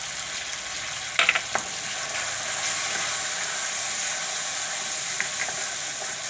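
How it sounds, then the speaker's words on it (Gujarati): A Gujarati methi chana dal curry with garam masala and chili sizzles steadily in hot oil, with a few brief clinks of a spoon or pan early on. "તો આને આપણે પાકવા દેવું ચટણીને હજી ઘડીક તેલમાં."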